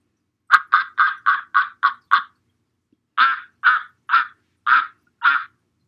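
A duck quacks in two rapid bursts, six or seven sharp nasal quacks each, clear and close with a short pause between runs.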